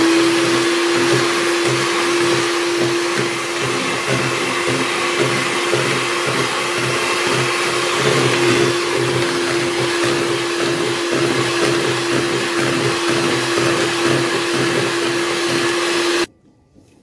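Electric mixer whirring steadily as it beats cake batter and a glass of grapeseed oil is poured in, a loud continuous motor drone with a fixed hum that runs unbroken for about sixteen seconds, then cuts off.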